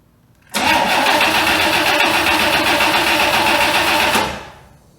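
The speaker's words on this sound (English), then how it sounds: "Is this 1962 Rambler gonna run for the first time in 47 years?" A 1962 AMC Rambler engine, parked for 47 years, cranks loudly and steadily for several seconds without catching, then the starter winds down.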